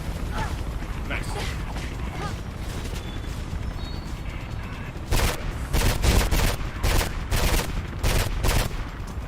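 Bursts of gunfire in the Mirror's Edge video game, a dense volley of rapid shots in the second half following a busier stretch of game noise, with no one speaking.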